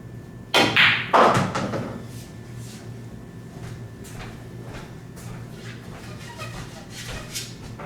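Pool balls on a pool table clack loudly together in a quick burst of hard knocks, then softer taps and rolling rebounds off the rails fade into quieter scattered clicks.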